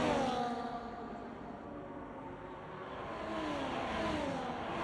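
A Ferrari race car at Monza in a sim racing league race screams along near the microphone. The engine note holds high and loud, with pitch sweeping up and down through gear changes over a constant whine. No voices are present.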